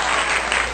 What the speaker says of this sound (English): Everybody give me a round for applause.